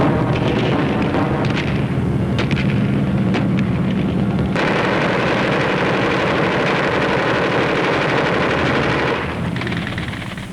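German anti-aircraft and ground gunfire aimed at landing gliders: loud, dense bursts of rapid machine-gun fire and heavier cracks rattling continuously over a rumbling background, easing off near the end.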